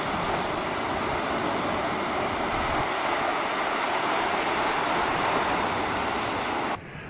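Ocean surf washes onto the beach at the end of Factory Road in Campbellton as a continuous loud roar, mixed with wind buffeting the microphone, steady throughout and easing slightly at the very end, with no one talking.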